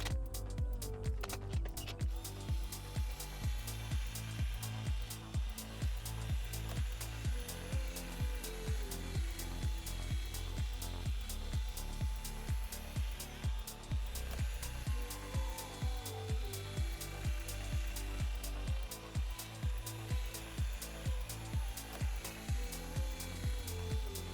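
Hand sanding of a car headlight lens with 2000 grit sandpaper, a steady rapid back-and-forth rasping that repeats in an even rhythm throughout, close and fairly loud with no talking.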